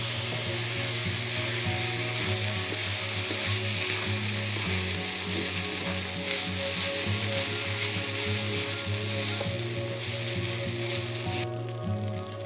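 Soy sauce poured into quinoa fried rice in a hot pan, producing a steady, loud sizzle and crackle of frying with occasional stirring scrapes.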